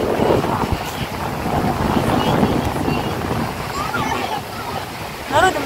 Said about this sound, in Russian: Ветер, ветер.